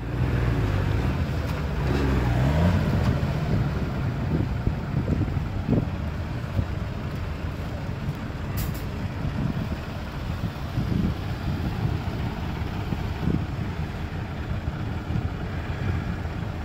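A compact 30 hp outboard motor runs steadily on a boat, a continuous low drone with some wind buffeting the microphone, no talk over it.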